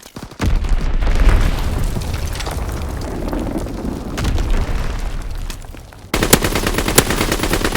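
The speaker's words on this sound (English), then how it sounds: "Enemy bomb incoming. Get to cover." Loud Call of Duty WW2 Team Deathmatch on the Flak Tower map, with a heavy booming explosion followed by rumbling blasts and rapid machine-gun fire, then a sudden burst of sharp crackling gunshots.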